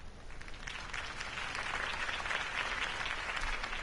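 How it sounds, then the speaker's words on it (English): Video game crowd applause, a steady dense wash of clapping that swells slightly and holds at moderate volume throughout. "could have heard that applause"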